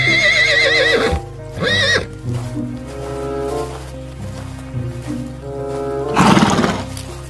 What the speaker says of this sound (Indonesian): Ternyata benar, ini seekor kuda.